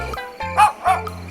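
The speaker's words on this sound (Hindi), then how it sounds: "कुत्ते की आवाजें सुनकर सभी लोग बाहर आते हैं।" A dog barks twice in quick succession, loud and close, in a village comedy story scene, with short sharp yips between pauses.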